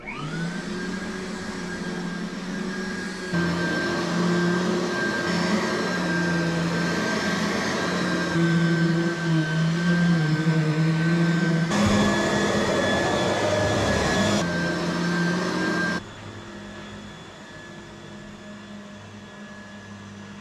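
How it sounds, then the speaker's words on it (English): A household vacuum cleaner drones steadily while a room is cleaned, a loud close motor whine with shifts in pitch and load as it moves across the floor, then dropping in level near the end; no talk. "now I'm ready to vacuum"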